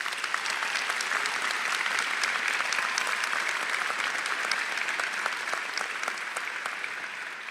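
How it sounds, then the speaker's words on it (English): An audience at a commencement ceremony claps in sustained, dense applause that holds at an even level throughout and fades slightly at the end, with no voices on top. "Let's give them the round of applause they truly deserve."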